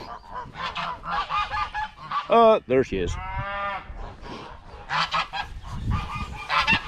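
Geese on a farm on Easter Sunday morning honk loudly in a short burst of harsh, overlapping calls, set among other farm-animal noise with people talking around them.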